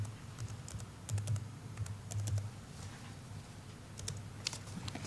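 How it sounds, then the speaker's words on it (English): Rapid clicking keystrokes on a computer keyboard, typed in short bursts over a steady low hum, close and fairly quiet throughout. "So you needed to type that in as well."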